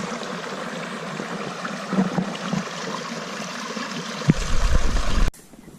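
A mountain stream flows beside the Appalachian Trail between Bennington, Vermont and Williamstown, Massachusetts, a steady close rush of water with a brief knock near the end before it cuts to near silence.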